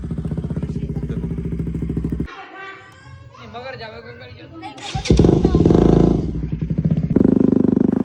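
A motorcycle engine putters with a steady, pulsing beat while riding out of a village to a Sikh Nagar Kirtan procession in Alwar, fading during a stretch of people talking, then throbbing louder again.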